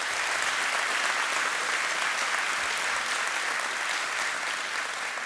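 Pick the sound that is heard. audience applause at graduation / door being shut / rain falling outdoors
audience applause at graduation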